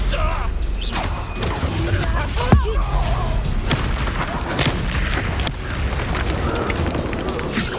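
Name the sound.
Confringo blast spell explosion in Hogwarts Legacy video game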